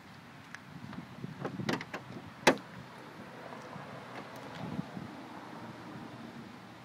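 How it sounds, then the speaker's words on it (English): Hood of a 1998 Lincoln Town Car being popped open, heard as a faint click and soft rattle followed by one sharp metallic clunk, quiet and close in an otherwise still outdoor setting. "Let me pop the hood for you."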